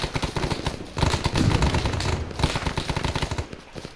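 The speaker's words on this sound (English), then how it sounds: "Kinda gives it away that they're shooting from inside here." Bursts of automatic gunfire crackle from inside a building during a video-game battle on Brigade Hill, loud and dense rapid shots with brief pauses between volleys.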